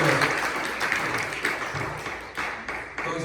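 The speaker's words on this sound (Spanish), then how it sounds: "Denle un aplauso al Señor, hermano" A church congregation applauds at a Spanish-language sermon, a dense, steady wash of many hands clapping close by, with faint voices mixed into the crowd noise.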